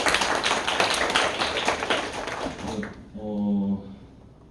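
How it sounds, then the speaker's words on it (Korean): A room of students at a university club orientation claps in a burst of dense applause for a few seconds, which then stops as a single voice begins speaking. "총무님께 박수 한번 부탁드립니다."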